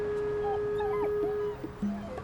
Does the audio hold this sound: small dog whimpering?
yes